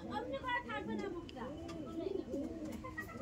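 Pet pigeons coo softly in a loft, with repeated close, low rolling coos overlapping each other, while someone talks over them.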